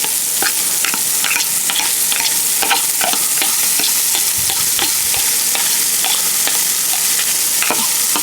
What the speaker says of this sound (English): Now I'm going to put this carrots and broccoli